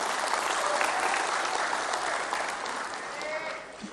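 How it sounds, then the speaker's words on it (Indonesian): A large audience applauds for Erick Thohir at PAN's 25th anniversary celebration: dense, steady clapping, fairly loud and close, holding throughout and easing slightly toward the end. "Tepuk tangan tuh untuk Pak Erick Thohir."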